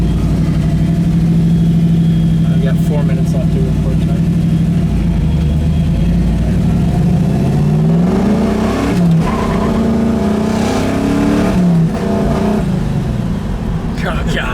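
A 1967 Camaro Yenko tribute's 427 solid-lifter engine idles with a steady low rumble, then revs up in several rising pulls, while someone speaks over it.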